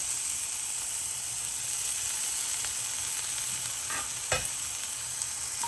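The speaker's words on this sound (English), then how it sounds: "And you just saute that until it's fragrant" Minced garlic and ginger sauté in a pan for beef and broccoli, a continuous close hissing sizzle with a couple of brief scraping stirs near the end.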